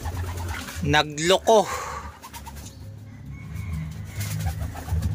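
Racing pigeons in a loft, one bird cooing in a short burst of rising and falling calls near the start, followed by low background murmur and someone speaking Tagalog.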